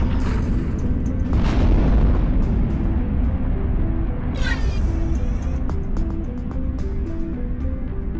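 Missile launched from a spaceship in the VR space game End Space, a loud rushing boom over a steady engine rumble, followed by fainter electronic blips.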